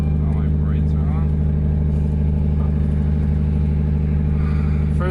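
A 2JZ-swapped Nissan S13 on its first drive with a new kit and freshly fixed wiring, giving a loud, constant low engine hum and rumble from inside the cabin with faint brief chirps over it.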